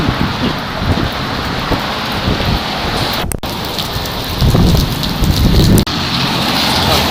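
Steady rain pours down with a constant hiss and patter, fairly close and loud, with no voices.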